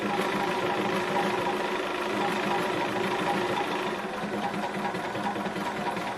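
A Bernina sewing machine runs a long tacking stitch, giving a steady, close mechanical whir with a fast rhythmic clatter that holds an even level throughout, with no voices.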